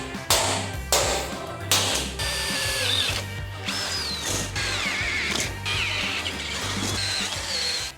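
A power drill bores holes through a Nissan GQ Patrol ute tray in repeated bursts: several short whirring runs, then a longer grinding drill with squealing metal cutting, close and moderately loud, separated by brief pauses.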